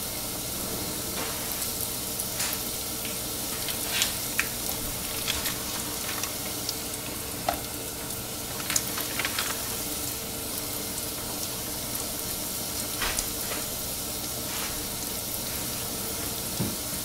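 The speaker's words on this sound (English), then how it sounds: "I'm just gonna add some pork cutlets to the pan, season them with salt and pepper" Pork cutlets seasoned with salt and pepper crackle in olive oil in a frying pan, a continuous bright hiss with scattered pops and faint clicks throughout.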